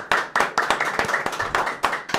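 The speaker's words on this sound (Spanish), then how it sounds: "¡Un aplauso a la Nueva Historia!" Clapping during a talk show, a single pair of hands clapping close and loud in a quick, steady rhythm of about nine claps, no other voices.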